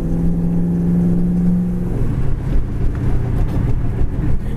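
Steady engine drone of a red 1970 Chevy Chevelle SS with cowl induction hood cruising at around 45 mph, loud and close, with low harmonic hum that shifts pitch slightly midway as the car rolls on.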